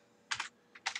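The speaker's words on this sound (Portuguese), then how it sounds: "estou digitando no lugar errado aqui" Quick bursts of computer keyboard typing, two short clusters of close keystrokes separated by a brief pause, clear against a quiet background with no speech.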